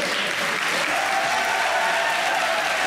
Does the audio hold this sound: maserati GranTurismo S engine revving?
no